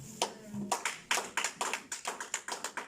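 A church congregation claps during a service: a run of sharp, fairly even handclaps at a lively pace, moderately loud and close, with no talk over them.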